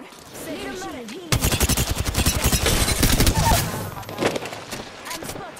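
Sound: gunfire in the video game Apex Legends

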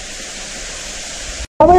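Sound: waterfall in a cave

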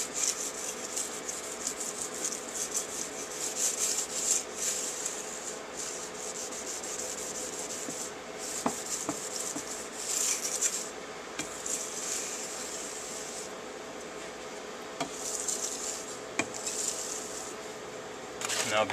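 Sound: hand sharpening a bolo machete on sandpaper

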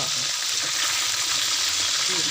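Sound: food boiling or frying in a pan

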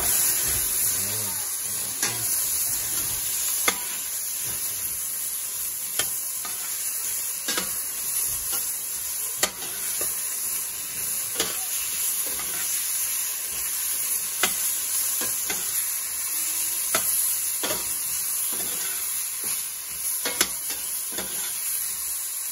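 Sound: tomatoes sizzling while stirred into salmon miso sinigang

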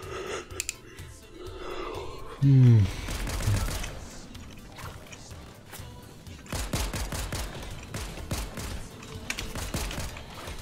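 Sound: gunfire in Fortnite video game

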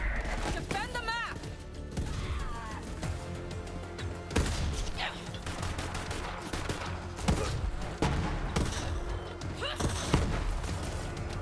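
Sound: gunfire from a gun in the video game Borderlands 3

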